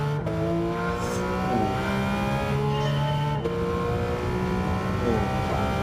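Car engine in Gran Turismo 7 revving hard near top speed, a steady high whine rising through the gears with sharp pitch drops at each shift, loud and close with no talking.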